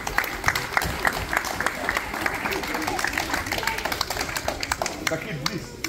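An audience claps for a children's martial arts demonstration at a Christmas party, with dense, steady clapping throughout and voices talking over it.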